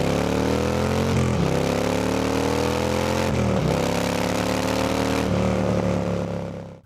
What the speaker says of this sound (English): The 2-into-1 into 2 dual exhaust on this CVO Street Glide produces a deep, throaty rumble